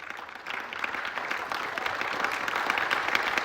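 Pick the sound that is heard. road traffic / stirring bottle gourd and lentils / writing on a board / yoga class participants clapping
yoga class participants clapping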